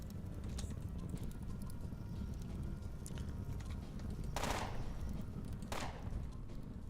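Two sharp gunshots ring out in the game Underrail, a few seconds apart, over a constant low background rumble.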